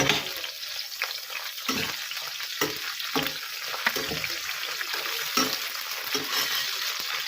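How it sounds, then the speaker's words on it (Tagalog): String beans are stirred in a hot frying pan, a continuous sizzle broken by repeated scraping and clattering strokes of the utensil, fairly close. "At halu-haluin natin ang ating sitaw."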